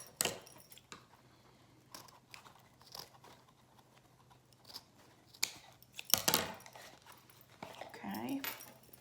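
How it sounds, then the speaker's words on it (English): Scissors snip ribbon off a roll in several sharp, close cuts spread across the span, with rustling of ribbon and a soft voice in between. "So let me cut it off of the roll here."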